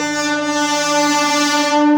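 A train's loud, steady horn-like tone holds for a couple of seconds at Chinsurah station, West Bengal, swelling slightly at the end.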